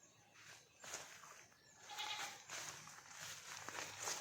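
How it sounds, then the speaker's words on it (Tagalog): Faint bleats of a goat come from some distance, several short wavering calls against a quiet outdoor background. "Parang may kambing, ah."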